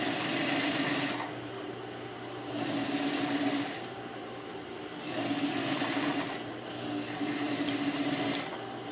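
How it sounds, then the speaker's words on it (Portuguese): A straight-stitch sewing machine runs in steady bursts of whirring stitching with short pauses between them, sewing the slit of a fitted tube dress, close and alone without talk. "Passei aqui a costura na parte da fenda e nessas bordas aqui internas eu vou costurar"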